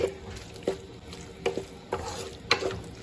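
Vegetables for a vegetable spaghetti being fried and stirred in a pan, soft sizzling under a handful of sharp scraping strokes of a spoon spaced about half a second apart, close and fairly quiet.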